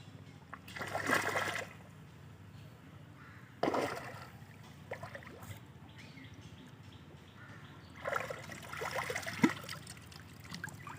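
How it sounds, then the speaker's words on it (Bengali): Water sloshes and splashes in bursts as a person plunges underwater in shallow water, with louder splashy surges near the start, middle and end and quieter trickling between. "পানির মধ্যে ডুব দিয়েছি"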